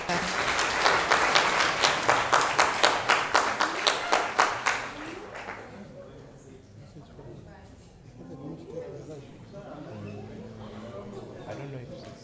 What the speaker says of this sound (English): Guys, a round of applause for Jonathan.